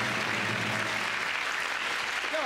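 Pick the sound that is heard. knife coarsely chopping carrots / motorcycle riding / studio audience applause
studio audience applause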